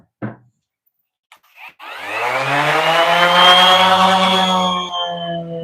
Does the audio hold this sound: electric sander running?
yes